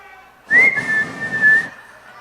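A shrill, sustained whistle carries over a broad crowd noise at a political endorsement convention in Orange Walk, holding a steady pitch for over a second before fading into the background murmur.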